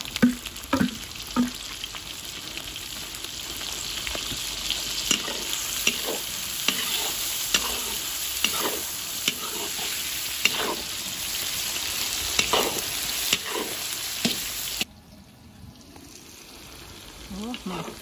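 Onions and meat for Kazakh kuyrdak frying in a pan, with continuous sizzling broken by repeated scraping stirs at an irregular rhythm, close and fairly loud, then a sudden drop to a quieter sizzle near the end.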